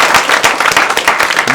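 A studio audience claps loudly in brisk, dense applause at the close of a comedy talk show, a short continuous burst of many hands with no talking over it.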